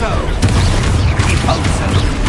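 An Expulso blasting curse goes off in Hogwarts Legacy as a loud, close, booming explosion with a burst of rumble, over game noise and a voice.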